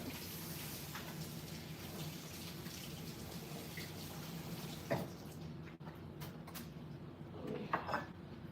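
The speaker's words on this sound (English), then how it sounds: "Wash my hands." Hands are washed under a steadily running kitchen tap, a continuous close hiss of flowing water with a few splashy shifts as the hands move through the stream.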